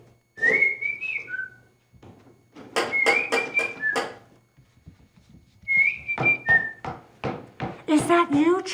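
In a radio mystery drama, a person whistles a few short melodic phrases in bursts, with sharp knocking or percussive sounds between and under them, and a brief pause in the middle.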